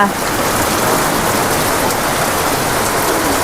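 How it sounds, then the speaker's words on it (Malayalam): Loud, constant roar of heavy rain pouring down close by, a thick unbroken wash of sound. "അങ്ങോട്ട് നോക്കിയൊക്കെ എന്താ മഴ"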